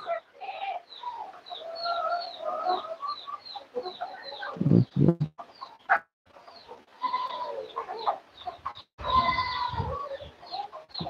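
Several chickens cluck and murmur continuously nearby, with a few louder bumps and knocks mixed in.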